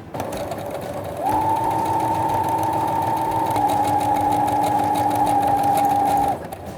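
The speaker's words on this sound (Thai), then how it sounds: "ดึงก้านสำหรับทำรังดุมลงมา แล้วก็เย็บได้เลยค่ะ" A sewing machine stitches a buttonhole into fabric with its buttonhole lever pulled down, giving a steady, close motor whir of rapid stitching for about five seconds before it stops automatically.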